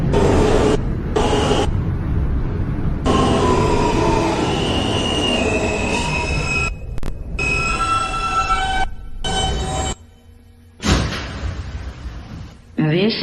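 An N subway train bound for Ditmars Boulevard roars along the track with loud, continuous rumbling and high sustained wheel squeals that rise and fade. It briefly drops quieter near the end as a voice speaks over it.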